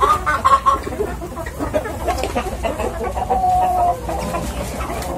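Native free-range hens, big birds of about three kilograms, cluck steadily and close by over a busy farmyard background, with a few brief wing flaps mixed in.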